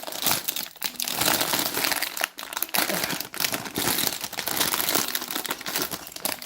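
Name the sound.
opening rattly plastic packaging of a building kit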